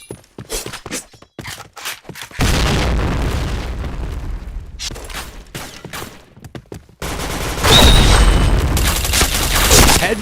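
Point Blank firefight with bursts of gunfire and two long rumbling grenade blasts, each booming explosion rolling on for several seconds after the rapid shots.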